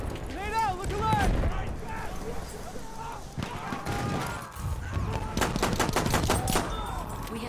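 Bursts of video game gunfire and pistol shots crackle among shouting voices and game effects in a chaotic multiplayer fight.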